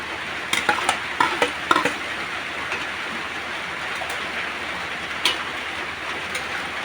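Pancit bihon rice noodles with toppings stirred and frying in a pan, a steady close sizzle with a cluster of scraping utensil strokes early on and another near the end.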